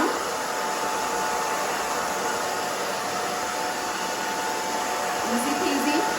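A hair dryer blows steadily on the back of a short, thin haircut, a loud continuous whooshing roar with a faint whine that holds even throughout.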